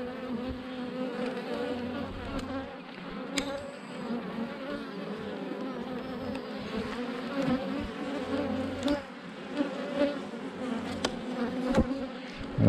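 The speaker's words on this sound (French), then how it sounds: "Pour faire un petit essaim." Honey bees around a small swarm hum continuously and densely, with individual insects droning close past the microphone for the whole stretch.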